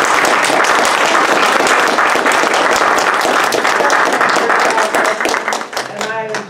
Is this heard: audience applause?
yes